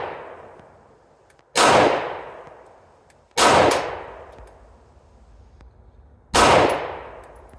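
Three loud, close shots from a Smith & Wesson M&P 10mm pistol loaded with CCI Blazer rounds, each a sharp crack with a ringing metallic tail, spaced unevenly with short quiet gaps and no talking.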